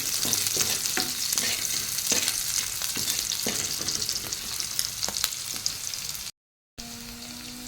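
Green chilies and garlic fry in a pan with nigella seeds and onion, giving a steady loud sizzle broken by repeated scraping stirs; the sizzle cuts out for a moment near the end and then resumes.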